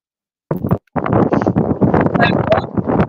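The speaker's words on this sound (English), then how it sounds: "It sounds very windy." Heavy wind buffets the microphone in loud, gusty bursts after a short silence, rumbling and crackling unevenly.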